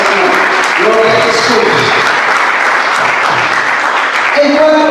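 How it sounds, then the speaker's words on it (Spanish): A church congregation claps together in loud, continuous applause, with voices calling out over the clapping throughout. "Den un aplauso al Señor."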